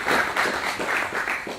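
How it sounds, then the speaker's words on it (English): Audience applause at a student symposium in Groningen: a brief, steady wash of many hands clapping together, moderately loud throughout. "Give him a round of applause."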